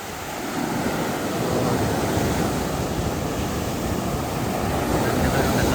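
Sea waves breaking steadily on a shore, a loud continuous roar of surf mixed with wind buffeting the microphone, with no voices heard.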